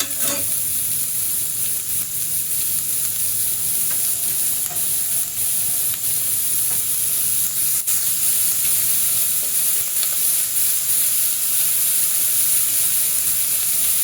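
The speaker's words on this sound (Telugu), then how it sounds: "కొంచెం వేగనివ్వాలి." Cabbage for an Andhra-style cabbage tomato curry fries in a pan, giving a steady, close sizzle and hiss that runs unbroken throughout, with a few faint clicks of stirring.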